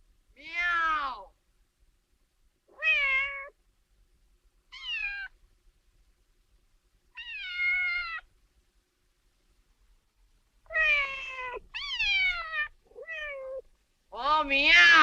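A person imitates a cat, giving a series of drawn-out meows separated by pauses, some in quick pairs, clear and close.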